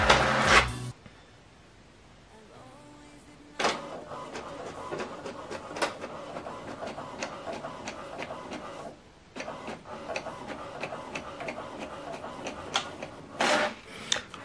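An HP Deskjet 3700 all-in-one printer prints a document, starting with a loud feed clunk, then a quiet lull, then repeated rhythmic print-head passes and ticks, close up and without speech.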